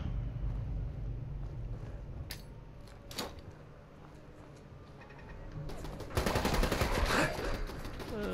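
A turret firing in Fallout 4, a few isolated shots early on and then a dense burst of rapid automatic fire near the end, close and loud.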